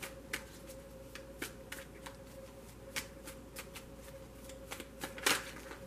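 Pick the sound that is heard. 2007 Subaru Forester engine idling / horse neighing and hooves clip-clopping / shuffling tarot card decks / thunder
shuffling tarot card decks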